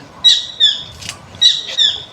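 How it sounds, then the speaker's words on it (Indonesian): Bird in a forest, called an omen bird, giving two paired high whistled calls with a short gap between pairs, near and clear against quiet woodland background. "Nggak benar ini burung ini. Burung Pertanda ya."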